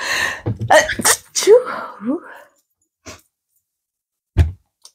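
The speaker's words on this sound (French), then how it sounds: "C'est ça les éternuements." Someone speaks briefly and then sneezes sharply, with a couple of faint clicks after it in a quiet room.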